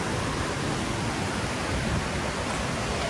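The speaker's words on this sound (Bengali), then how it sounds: "যেই জায়গাগুলোতে ঝর্ণা দেখা যায়" Steady broadband rush of a waterfall in a cold Swiss mountain village, even and continuous throughout with no other sounds.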